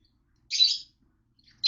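Pet aviary birds such as cockatiels, budgerigars, parakeets and Java sparrows give two sharp, bright bursts of chirping close by, separated by near silence.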